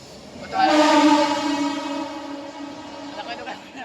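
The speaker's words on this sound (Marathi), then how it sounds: "माझी ट्रेन आली आहे" A train pulls into a station, its horn blaring loudly from just after the start and holding as a sustained, steady tone over rumbling background noise for the rest of the clip.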